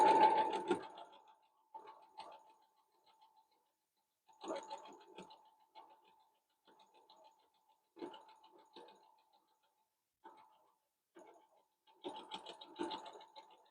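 Home sewing machine stitching quilt fabric in short bursts of rapid needle clatter separated by quiet pauses, close and fairly soft.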